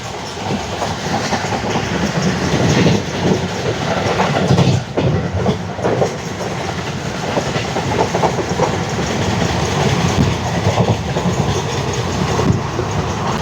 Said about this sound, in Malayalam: വണ്ടി നല്ല സ്പീഡിലാണ് പൊയ്ക്കൊണ്ടിരിക്കുന്നത്.